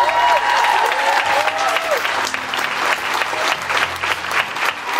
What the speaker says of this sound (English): Now we should applaud that.